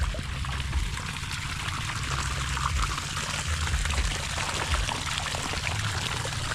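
Water from a hose sprays and sputters in uneven spurts onto vegetable planters, a steady broadband hiss with irregular gurgling bursts, close by and continuous.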